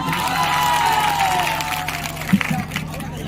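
An audience at an All India Mushaira poetry gathering in Suratganj claps in a dense, sustained round of applause with crowd murmur, fading toward the end as a few scattered claps stand out.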